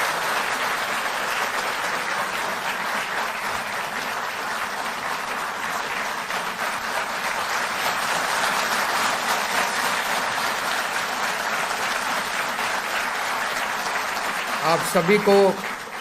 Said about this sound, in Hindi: आपकी तालियों की गड़गड़ाहट से साफ जाहिर है